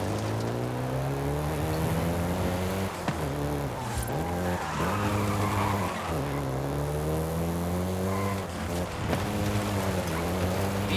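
A Volkswagen Golf GTI roars through Forza Horizon 5 in Mexico, engine droning steadily with pitch swells as it shifts, while tires squeal and skid in repeated bursts, close and loud throughout.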